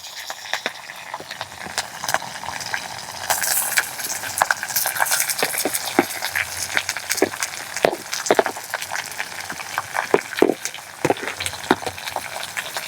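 Sliced onions and green chillies sizzling in a hot pan, a crackly frying hiss broken by irregular sharp pops and spatters at close range, with a faint voice briefly underneath.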